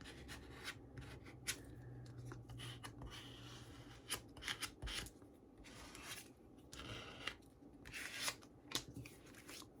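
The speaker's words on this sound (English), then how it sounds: "I'm going to take my card and I'm going to burnish that down like I did on the other side." A card burnishes folded paper on a handmade paper journal folio: faint, intermittent rubbing and scraping strokes, with small crisp paper rustles and taps, close and quiet, no talking.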